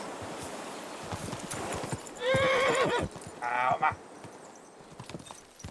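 In a video game, horse hooves clip-clop as the horse rides, broken by two loud whinnying neighs partway through, while someone briefly speaks over the scene.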